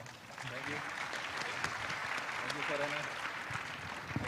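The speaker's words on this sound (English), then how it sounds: "Please, give them first applause." Conference audience applauding a panel at a big data conference, a steady spread of clapping with voices talking over it, moderately distant and even in level.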